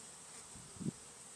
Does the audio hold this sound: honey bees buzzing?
yes